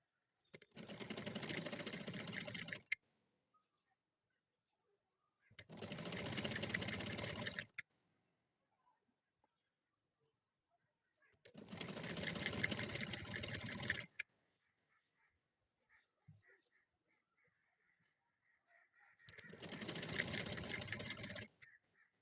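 A sewing machine stitches piping onto a round collar in four separate loud bursts of two to three seconds each, with quiet pauses between them and faint handling sounds during the gaps.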